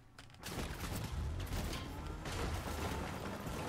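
Gunfire aimed at the player in a video game, a dense sustained burst of shots and rattling impacts that starts after a brief quiet moment and continues loud and steady throughout.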